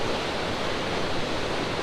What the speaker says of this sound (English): you can hear the roar of the river